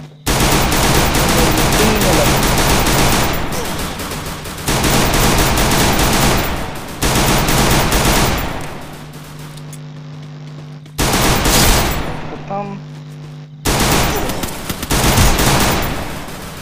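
Automatic gunfire in the video game Free Fire Max, Clash Squad mode on the Kalahari map, rattles loud and close in several long sustained bursts separated by short pauses.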